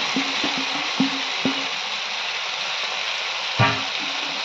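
Fried potatoes and pointed gourd go into a pan of sizzling spiced masala with sour yogurt, giving a steady hiss under a few clattering thuds from the spoon and pan, close and alone.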